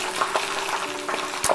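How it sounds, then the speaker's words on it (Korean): Chicken pieces for kkanpunggi sizzle loudly up close in hot oil during the second deep-frying, a dense steady crackle and bubble with no voices. "2차로 튀김을 한번 하겠습니다."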